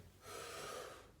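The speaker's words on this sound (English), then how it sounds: "Deep breath in." A deep inhaled breath taken during a beginner's no-weights full body workout, one steady, fairly soft intake lasting about a second, heard alone without speech.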